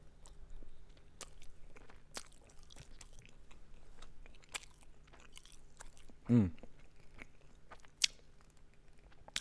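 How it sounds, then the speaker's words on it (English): Someone eating a whole brownie, with soft, quiet chewing and mouth sounds spread across a still room, one louder crunchy bite partway through, and a sharp click near the end. "I'm going to have the entire brownie"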